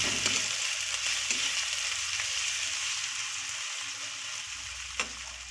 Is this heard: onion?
yes